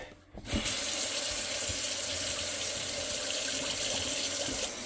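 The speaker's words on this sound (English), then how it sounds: "I got all 3 sinks running." Three sinks run together after a drain repair, taps pouring in a loud, steady, even hiss that starts after a brief quiet moment and carries on unbroken, with no talking.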